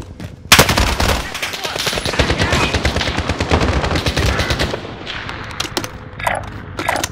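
Rapid automatic gunfire in the shooter game Warzone, dense bursts of loud close shots that thin into scattered cracks and distant pops toward the end.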